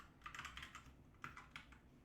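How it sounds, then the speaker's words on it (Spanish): Rapid clattering keystrokes on a computer keyboard during a programming session, a steady run of close, crisp taps with a brief pause midway, no talking over it. "Mientras tecleo esto"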